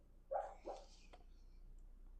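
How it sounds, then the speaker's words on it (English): A dog gives two short barks close by, the first louder than the second, followed by quiet room tone. "we have an answer from a dog"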